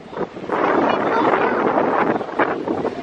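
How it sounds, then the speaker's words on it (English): Waves and wind at sea during lifeboat training off Swanage, a loud, steady roar of wind buffeting the microphone over rushing water that lasts throughout. "lots of waves."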